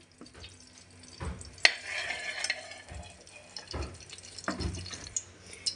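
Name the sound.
ghee melting and sizzling in wok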